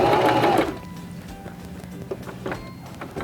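A Singer Start 1304 sewing machine stitches a buttonhole in a short rapid burst of whirring and needle clatter lasting about half a second, followed by quieter clicks and handling sounds.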